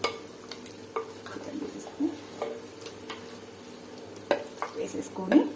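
Marinated chicken tipped into cooked palak in a pan for palak chicken pulao, low sizzling under scattered scrapes and clinks of a spoon against the pan as it is stirred, a louder clatter near the end.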